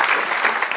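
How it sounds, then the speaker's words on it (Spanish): Applause from a church congregation, a brief dense burst of clapping heard close and fairly loud. "Dale un aplauso al Señor"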